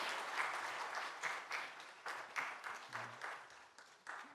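Church congregation at a Sunday worship service gives a round of applause for a flower bouquet presentation, a fairly close, steady clapping that swells and dips, with a faint voice underneath.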